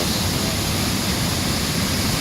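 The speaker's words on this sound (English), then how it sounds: "we will be visiting Central Oregon's McKenzie River and seeing Sahalie Falls." Sahalie Falls on Oregon's spring-fed McKenzie River gives a constant, dense roar of rushing water, steady and loud throughout with no voices.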